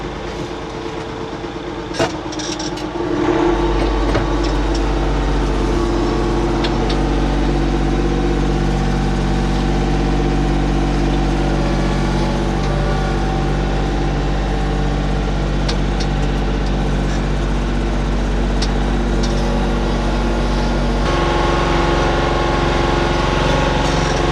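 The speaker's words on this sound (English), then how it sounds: "I'm just going to drive the tractor around, make sure everything's rock solid." A heavy tractor engine idles and runs steadily with a deep, constant rumble, close by, with a few faint clicks and no voices.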